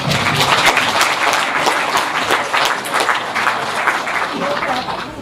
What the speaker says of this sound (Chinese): 请把掌声送给我们所有的赞助商。